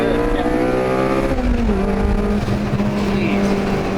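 A supercharged Cosworth-powered Subaru FR-S race car roars at high revs on a track, then shifts and drones on at a steady pitch, loud and close throughout.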